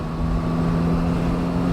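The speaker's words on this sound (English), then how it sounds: "I think I like the sound of this engine better too." Yamaha MT-09 motorcycle with stock exhaust and audible airbox, a steady low engine hum under wind rush while riding, continuous and fairly loud.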